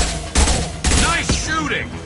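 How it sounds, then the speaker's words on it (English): In the Mass Effect 2 video game, two heavy, high-impact gunshots bang close and loud in quick succession, followed by rumbling blast echoes. "Firing a high-impact shot!"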